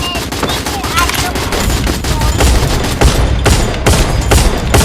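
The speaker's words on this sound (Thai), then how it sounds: "ทำไมพี่ยิงแรงจังเลยอ่ะพี่เอาปืนไหนยิง" Rapid, loud bursts of automatic gunfire from a video game crackle continuously at close range, mixed with game sound effects and occasional voices.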